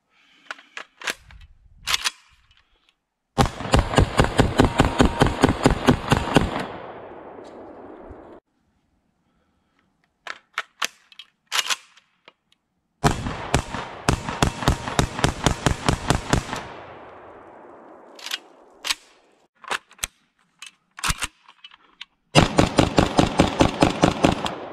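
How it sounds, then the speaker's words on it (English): An Arsenal SLR-104FR Bulgarian AK-74 rifle firing 5.45 rounds outdoors: rapid strings of sharp, loud shots in several separate bursts with silent gaps between them. "The first impression is, man, this thing shoots smooth."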